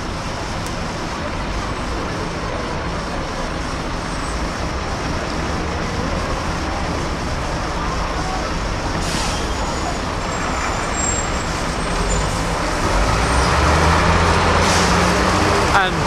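Buses, including a Chase THX 160S on park-and-ride duty, pass through Walsall traffic in 2002, a continuous roadway rumble with engine noise that swells louder toward the end, under a voice.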